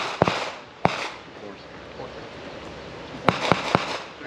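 Gunshots ring out at a firearms instructor training range as sharp, loud cracks, a couple early and then three in quick succession, with open outdoor air between them.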